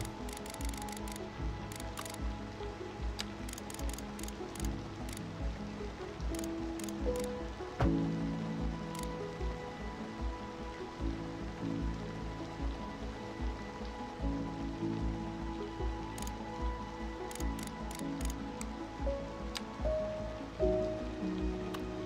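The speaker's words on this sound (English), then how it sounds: "That rain sounds cold." Video game rain in Cities: Skylines II patters steadily across a surface, with occasional sharp ticks and a low rumbling bed beneath; no voices, just a continuous wet hiss.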